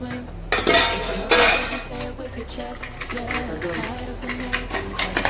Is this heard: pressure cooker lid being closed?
yes